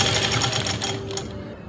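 Sewing machine stitching buckram onto fabric for an Afghani salwar, a loud rapid mechanical whir with quick repeating needle strokes that slows and stops near the end.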